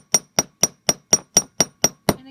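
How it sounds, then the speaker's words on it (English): Metal hammer blows strike the edges of a copper bezel in nine crisp, evenly spaced taps, close and loud with ringing metallic clinks. "make sure you grab the edges with the hammer"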